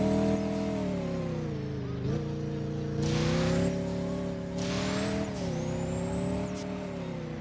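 A 2025 Lamborghini Urus SE in the video game Driving Empire accelerates with a continuous, close engine drone that rises and dips in pitch through a few gear changes, staying loud and even from start to finish.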